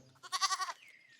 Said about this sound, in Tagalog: Ano ang tunog ng kambing o goat?